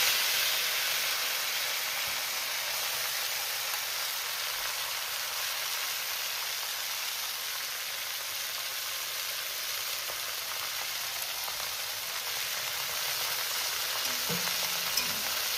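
Leafy greens hissing and sizzling in hot oil with turmeric and salt, a steady loud frying hiss with soft stirring noises near the pan, continuous throughout with no speech.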